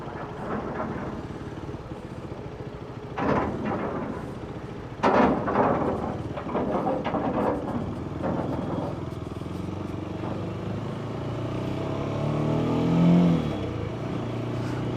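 A Voge 250RR motorcycle engine revving and pulling away off a ferry among other traffic, with intermittent bursts of acceleration and a rising drone near the end.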